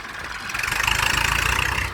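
A rare crawler-tracked 265 S tractor engine idling close by, a throbbing mid-low rumble with a fast pulsing beat that swells slightly and then holds steady.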